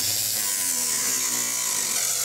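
A power tool cuts steadily through a rusted rocker panel on a 1966 Chevy truck, a continuous loud, harsh grinding whine that holds without a break and stands alone, with no voices.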